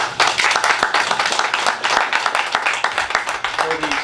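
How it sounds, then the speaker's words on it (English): Meeting attendees break into a round of applause, a dense patter of many hands clapping at steady strength for about four seconds, with a voice briefly audible over it. "So let's have a round of applause for them."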